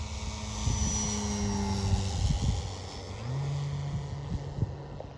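A large radio-controlled model Cessna 182 with a 95-inch wingspan drones steadily, its engine rising and falling in pitch as it passes by at low altitude, with no voices.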